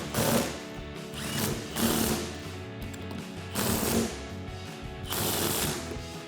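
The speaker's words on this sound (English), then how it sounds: "take your 14mm socket and tighten those down" A ratchet with a 14mm socket snugs down nuts on a 2022-2024 Toyota Tundra front leveling kit. Four loud bursts of rapid clicking come close up, separated by brief pauses.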